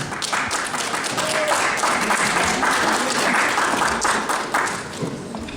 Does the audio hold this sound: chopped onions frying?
no